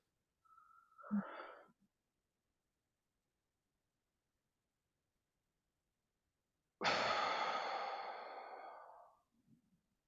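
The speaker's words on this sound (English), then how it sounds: "I'm going to take a few deep breaths." A person taking deep breaths during a meditative pause: a soft, brief inhale near the start, then after a long silence a long, loud, breathy exhale that slowly fades away.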